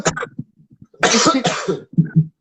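Two harsh, loud coughs in quick succession, close to the microphone, with brief throaty sounds before and after.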